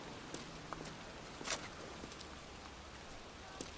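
Pouring rain falls in a cemetery in a video game, a steady faint hiss of rainfall broken by a few scattered sharp drips and taps.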